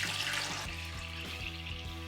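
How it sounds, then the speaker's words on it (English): Cold water poured into a toy Monster Jam Monster Mutt Dalmatian dunk tank, a steady splashing, trickling stream that runs close and continuous for about two seconds with no talking. "I have cold water, so I'm going to carefully pour it in here without spilling it."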